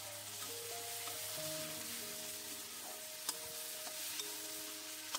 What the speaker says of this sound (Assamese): ডালখিনি ভাজিবৰ কাৰণে মই অকণমান তেল দিছো আৰু কেটামান গোটা জিৰা দিছো